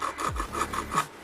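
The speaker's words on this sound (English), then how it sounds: "this being a fingernail file, you can almost cut it" A fingernail file rasps against a small model starship part in a few short, close back-and-forth strokes, quiet and scratchy with no talk.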